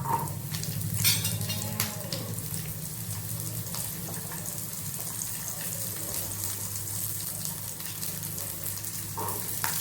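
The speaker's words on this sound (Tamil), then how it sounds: "இப்போ சின்ன வெங்காயத்தையும் போட்டுவோம்." Steady sizzling of shallots frying in hot oil, with occasional clinks and stirring sounds.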